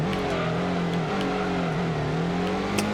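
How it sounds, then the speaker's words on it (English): A car's Boxer engine revving in the video game Gran Turismo 1, a steady, loud, close engine drone whose pitch rises and dips slightly, with no voices. "I want to hear the sweet melody of my Boxer engine."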